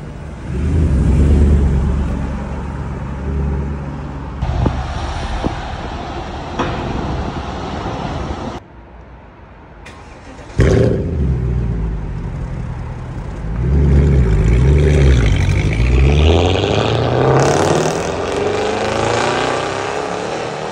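A 1950s Mercedes Pontoon sedan fitted with a swapped 6.2-liter AMG V8 rumbles loudly, revving in bursts, dropping off briefly, then roaring back with rising, accelerating engine pulls.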